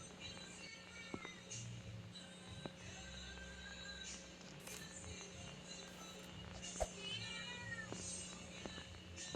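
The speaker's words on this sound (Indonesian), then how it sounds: "Ini kucing kenapa dah?" A cat in the horror video game DreadBurger meows several times at irregular intervals, with rising and falling cries over a low in-game hum and occasional taps and footsteps.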